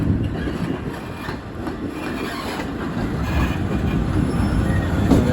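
A Class 66 diesel locomotive rolls into Crewe station, producing a loud, close, continuous low rumble with rail noise and faint wheel squeal, heard without talk.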